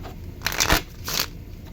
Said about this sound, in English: deck is shuffled.